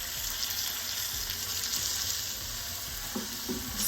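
Ricotta, lemon juice and zest being stirred into a penne pasta bake, a steady soft wet scraping and sizzle-like hiss with a few louder knocks of the spoon near the end, no talking.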